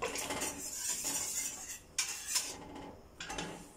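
Spoon scraping and clinking against a metal pot while custard is stirred over the heat, a steady run of close, bright scrapes with a few louder knocks near the middle and end, no talk.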